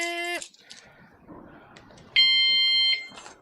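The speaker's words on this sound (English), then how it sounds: "take the alarm off" A household alarm gives two loud, steady electronic tones, one at the start and one later, with quiet rustling and handling noise between them before it cuts off.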